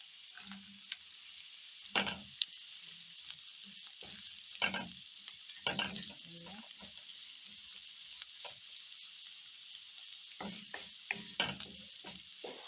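Cabbage grilling in a pan for a vegetarian pilau, a faint steady sizzle under repeated spatula stirs and scrapes that come in short bursts.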